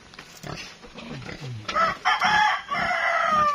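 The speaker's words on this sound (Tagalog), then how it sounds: "Ang daming manok na naman." Chickens and a rooster on a farm, with the rooster's crowing and clucking rising clearly in the second half after a stretch of faint voices and rustling.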